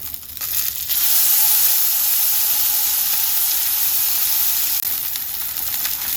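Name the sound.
salmon fillet sizzling while pan-frying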